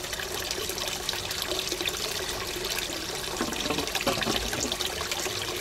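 Water gurgles and trickles as an aquaponics siphon finishes draining, a soft, steady bubbling dribble with a few brief louder gurgles.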